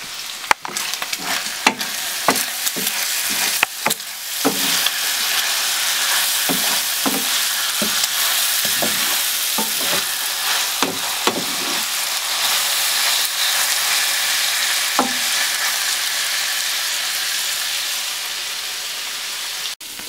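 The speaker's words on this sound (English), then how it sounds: "the bacon is almost finished, guys" Bacon fries in a pan with a loud, steady sizzle, broken by sharp, repeated scrapes and knocks of a utensil stirring it, close up and with no speech.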